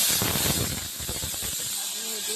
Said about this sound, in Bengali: দেখলে ডাল সেদ্ধ হচ্ছে প্রেশার কুকারে বসিয়েছি